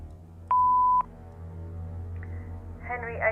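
Phone message playback in The Painscreek Killings video game: a single steady beep lasting about half a second, followed by faint, brief tones, and a voice begins speaking at the end.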